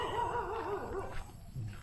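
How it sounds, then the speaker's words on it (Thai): A dog barks and yips near a village garden beside an old railway line in rural northeastern Thailand, a short burst of excited barking that fades into quieter yelps, with no talking. "มีน้องหมาเห่าด้วย"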